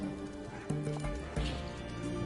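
Horse hooves clip-clopping with a neigh from a horse in The Witcher 3: Hearts of Stone, busy game ambience around, hoofbeats steady with a louder whinny near the middle.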